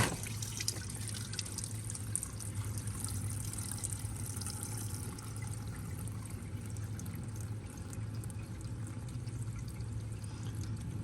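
Old oil and diesel fuel drain from the engine of a 1922 International truck, a steady quiet trickle and pour of liquid that runs continuously with faint dripping, nearby and without speech.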